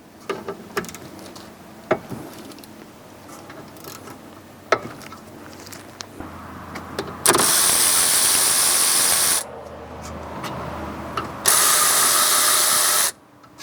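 On the rear brake of a 2011-2017 Honda Odyssey, 12mm caliper bolts are worked loose with a clicking ratchet, followed by two long, loud bursts of hissing air tool or spray, all close up.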